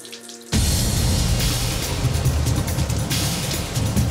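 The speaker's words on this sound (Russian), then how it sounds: "Вот, тепленькая пошла." Warm water runs from a shower tap aboard a submarine, a steady loud rushing hiss that starts abruptly and continues unbroken, close up with no talk.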